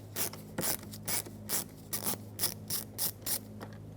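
A screwdriver backs a Phillips head screw out of the interior door panel of a 2014-2021 Mazda 6, giving a run of close, quiet ratcheting clicks in short bursts over a steady low hum.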